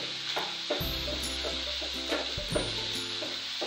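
Tomatoes frying in a pan for a cheesy mayo sandwich masala give a soft steady sizzle, with a spatula stirring and scraping over it at close range.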